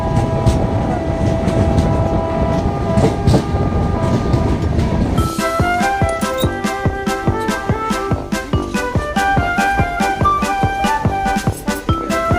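A long-distance train on the Bhubaneswar to Delhi route rushes along the rails at speed, a loud rumbling roar that turns into rapid, rhythmic clickety-clack beats over the joints for the rest of the stretch.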